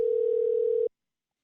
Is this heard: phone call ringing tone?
yes